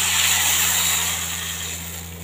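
Steady sizzling hiss of tamarind water bubbling in a hot pan for coriander leaf pickle, slowly easing off, with a faint low electrical hum underneath.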